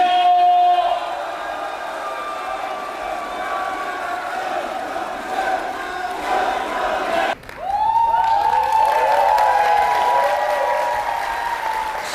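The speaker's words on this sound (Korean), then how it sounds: "여러분 박수로 환영해 주세요." A standing crowd at a political special lecture in Gwangju welcomes a former Democratic Party leader with sustained loud applause and cheering, and tonal music plays alongside throughout.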